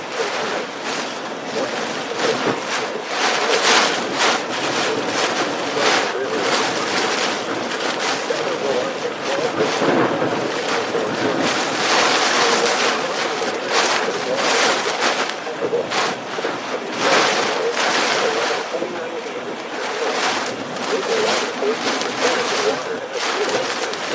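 Hurricane Ian's wind and storm surge roar steadily from inside a vehicle, a loud continuous rushing with surging gusts throughout, while people talk over it.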